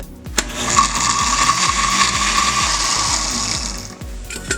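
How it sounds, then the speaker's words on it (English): A blender whirs loudly and continuously as it purées enchilada sauce ingredients, a close, steady motor drone with rhythmic churning pulses, then cuts off near the end. "Now we're gonna blend."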